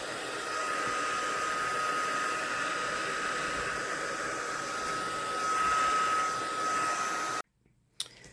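A hair dryer blows steadily and loudly onto a handmade paper ephemera collage with dyed cheesecloth for about seven seconds, with a faint whine through the airflow, then cuts off abruptly into near silence.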